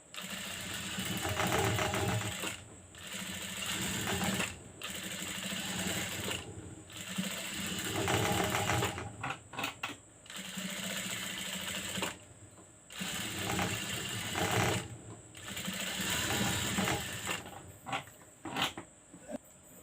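A sewing machine stitches lace onto a baby frock in loud, continuous bursts, each stopping briefly before the needle starts running again.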